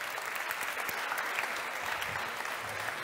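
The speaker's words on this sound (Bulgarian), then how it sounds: "Моля аплодисменти" Dense, steady audience applause filling the whole stretch, a continuous wash of many hands clapping at a science-themed public talk event, even in level with no voices.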